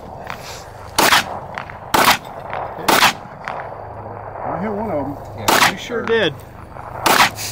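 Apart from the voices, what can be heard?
rifle shots in a DMR rifle match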